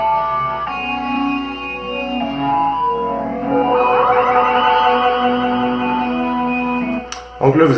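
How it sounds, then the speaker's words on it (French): Organ synth track heavily processed with distortion, a light overdrive and a phaser: sustained, buzzing chords that shift and swirl, changing pitch every second or so, loud and alone before a short break near the end. "c'est un son d'orgue qui a une distorsion, un petit overdrive et un phaser"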